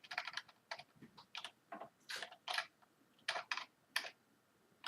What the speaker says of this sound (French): on va tester tout de suite le clavier